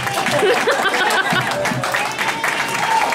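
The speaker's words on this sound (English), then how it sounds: "one more round of applause for everyone you saw tonight" Comedy club audience applauding at the end of a stand-up night, loud sustained clapping mixed with cheers and whoops from a close, lively crowd.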